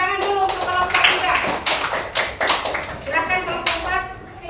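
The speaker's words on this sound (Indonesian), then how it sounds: "Tepuk tangan dulu untuk kelompok 3." Classroom applause for a student group's presentation: lively clapping from pupils, with children's voices and chatter mixed in throughout.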